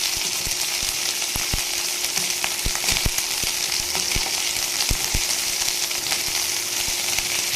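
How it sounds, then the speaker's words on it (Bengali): Flat beans (sheem) frying in hot oil in a pan, a dense, steady crackling sizzle heard up close, punctuated by sharp clicks and taps of a spatula stirring at irregular intervals, with no voices. "এবার আমি সিমটা দিয়ে দিয়েছি, সিমটা বেশ কিছু সময় ভেজে নেব"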